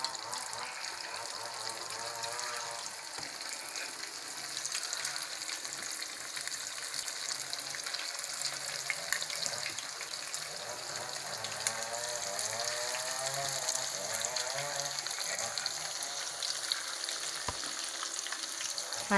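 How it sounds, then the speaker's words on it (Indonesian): Flat Balinese sate pulung frying in hot oil, a continuous loud crackling sizzle with bubbling that carries on steadily throughout, with no voices over it. "Nah, ini sate yang lebih pipih ini digoreng sekarang."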